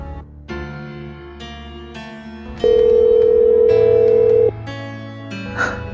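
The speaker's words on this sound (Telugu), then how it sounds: "నా ఫోన్కు డైల్ చేసి చూస్తాను" A telephone dials a number, giving a series of short electronic tones followed by a long steady tone lasting about two seconds, then more tones, close and clear with no talking.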